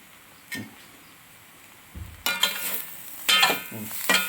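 Two spoons toss clam meat around a pan for Vaikom-style clam thoran. A few sparse clinks come first, then loud, repeated bursts of scraping and sizzling stir-fry up close.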